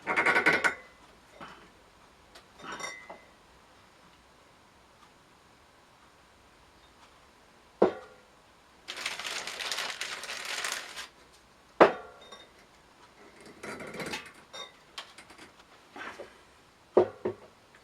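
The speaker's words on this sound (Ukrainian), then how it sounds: "Після розливання виноградної чачі по пляшкам Кожну пляшку потрібно закоркувати." Bottles of homemade grape chacha are corked and sealed by hand, giving sharp clinks and knocks of glass and cork scattered between quiet pauses, with a few longer scraping, rustling bursts, all fairly close.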